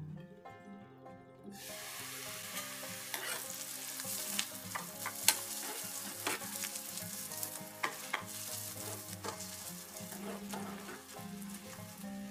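Steady sizzling of a tomato bath base frying in a pan, with turmeric added, broken by frequent scraping and clinking as a spoon stirs it, close and continuous for the whole stretch.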